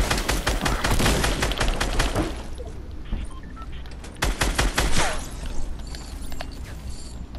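Gunfire from Fortnite gameplay, including shotgun blasts, comes as a dense burst of sharp shots and booms, then a pause, then another volley of close, loud reports.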